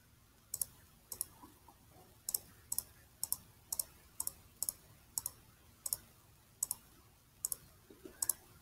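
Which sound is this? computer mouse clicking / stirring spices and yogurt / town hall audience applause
computer mouse clicking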